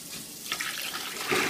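Water running from a tap, apparently to add more water for a frozen bubble-bread ice bucket challenge, pours in a steady splashing rush that grows louder near the end, with no talking.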